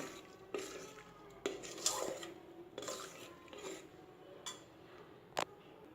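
A spoon stirs moong dal payasam with coconut milk in a metal pot, giving soft scraping with several sharp clinks against the rim, quiet and close with no talking.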